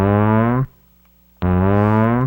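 Two buzzy, reedy synthesized voice source waveform tones sound with a short silent gap between them, each a steady harmonic drone.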